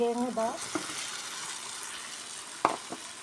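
Tomatoes fry in a pan with a steady sizzle, and brief scraping knocks of stirring come near the start and end, with a little speech over it.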